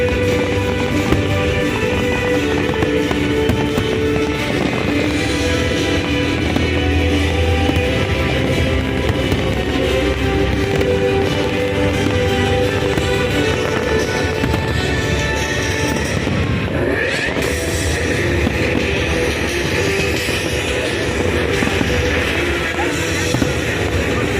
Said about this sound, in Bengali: আজকে এই শেষ দিনে আতশবাজি ফুটাচ্ছে